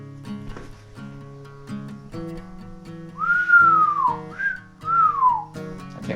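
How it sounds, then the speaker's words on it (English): A person whistles a wavering, untrained tune, with a few rising and falling swoops standing out loud and close over a steady low hum in the background. "I can't whistle very well."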